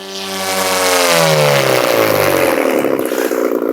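A Chinese-made paramotor engine catches and climbs into a loud, steady rev, its pitch sweeping upward over the first second or two, then holding a close, roaring drone.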